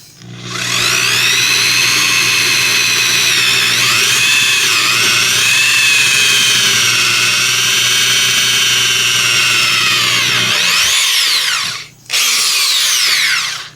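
An electric 3/8-inch right-angle drill whines loudly and steadily while boring through material, its pitch sagging and rising under load, then cuts out briefly near the end before spinning up again.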